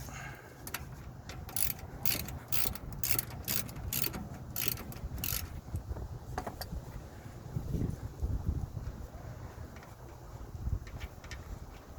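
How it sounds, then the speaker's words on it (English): Bolts being removed from a Corvair oil pan with a ratchet tool, producing a run of close, rapid clicking pawl bursts over the first five seconds, then scattered lighter metallic taps and handling noises. "So I'm already starting to take these bolts off."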